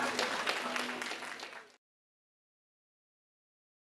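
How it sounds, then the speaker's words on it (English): Wedding guests applaud the bride and her father, a broad patter of clapping with some crowd murmur that runs for under two seconds and cuts off abruptly into silence. "how about a round of applause for the bride alongside her father?"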